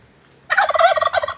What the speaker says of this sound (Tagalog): Meron tayong mga batang manok.